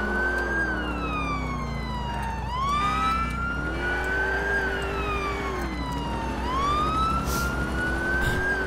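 A police car siren wails continuously while responding code 3 in the GTA LCPDFR video game, loud and close, sweeping up and down in repeated rising and falling cycles with engine noise beneath.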